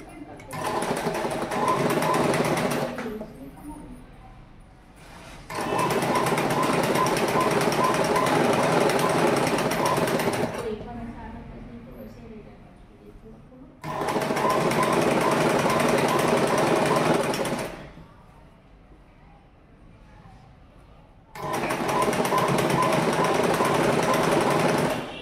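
A sewing machine stitches a double-folded hem on uniform shorts in four long, loud, buzzing bursts, each lasting a few seconds and separated by pauses of quiet handling.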